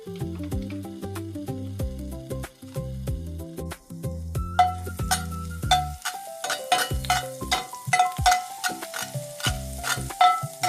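Garlic frying in oil for a creamy chicken and mushroom dish, a steady close sizzle with stirring scrapes, heard beneath prominent melodic background music and no talking.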